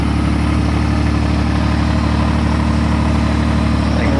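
A carbureted 1996 Honda Goldwing trike engine idles close by, a loud, steady, even rumble that continues without break.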